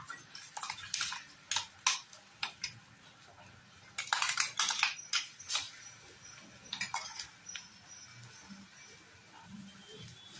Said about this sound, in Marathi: आता यामध्ये आपण कांदा टोमॅटोची पेस्ट केली होती ती टाकूया.